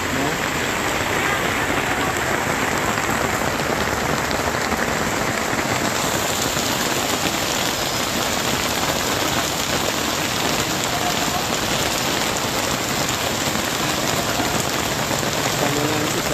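Heavy rain pours steadily onto surfaces at the Jaro plaza, a dense, continuous hiss with no pauses that holds at the same loud level throughout.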